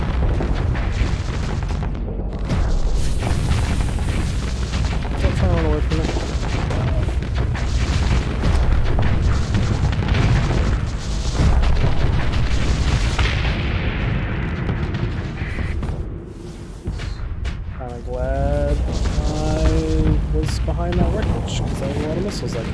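Missile explosions in the space combat game Starsector, a dense run of booms and bursts rumbling almost continuously, with someone talking over the blasts.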